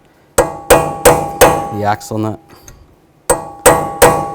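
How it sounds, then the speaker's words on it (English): A hammer strikes a punch or chisel to peen over the axle nut on a 2004-10 Toyota Sienna front wheel hub: three sharp, ringing metallic taps, a short stretch of speech, then three more close, loud taps. "just take a punch or a chisel and a hammer and just give it a tap"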